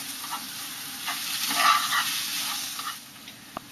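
Pork going into a hot pan with softened carrots and shrunken mushroom, a steady hiss of frying that swells briefly as it lands, with a faint click near the end.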